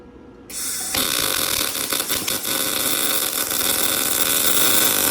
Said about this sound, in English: I turned my heat down a little bit so I could run a bead.